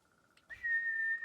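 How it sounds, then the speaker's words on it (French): A single clear, sustained whistle calling a horse in the video game Ghost of Tsushima, rising briefly then holding a steady high pitch for under a second, close and alone. "on peut les appeler en sifflant."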